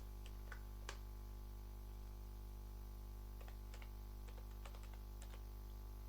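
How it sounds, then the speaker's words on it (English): Fingers type on a computer keyboard, a faint run of quick key clicks in small bursts with a short quiet gap, over a steady low hum. "again I am typing the file name 1"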